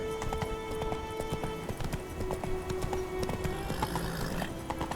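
Roach, the horse in The Witcher 3, clip-clops along at a steady gait, with close, rhythmic hoofbeats over a faint background of game music.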